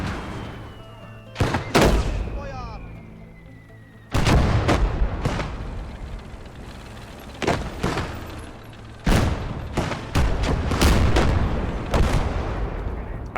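War video game battle with repeated heavy gunshots and artillery booms, a dozen or so sharp loud blasts in irregular bursts over a continuous rumbling background of combat noise.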